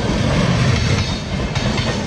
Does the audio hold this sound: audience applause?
no